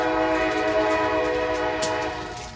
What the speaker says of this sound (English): It's like, oh, I didn't even realize there was a train.